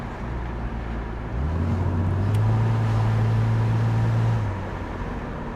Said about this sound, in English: this is an accurate depiction of how it will sound if you just cut your mufflers